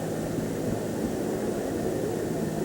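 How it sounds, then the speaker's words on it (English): A helicopter lifting off amid a fire and falling debris during the September 11 attacks, heard as a steady, dense engine and rotor roar without any talk. "That helicopter is in fact taking off."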